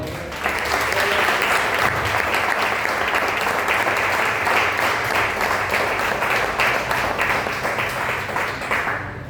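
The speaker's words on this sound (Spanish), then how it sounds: "¿Cuánto le dan un aplauso al Señor?" A church congregation breaks into sustained, dense applause during a worship service, a steady wash of many hands clapping that holds loud for about nine seconds before easing slightly at the end.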